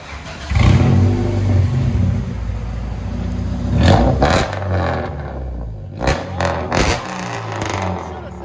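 A 1994 Honda Civic with a B16 engine, headers and straight pipes revs hard and loud, rising and falling in several bursts with a harsh, raspy exhaust roar; voices are faintly audible underneath.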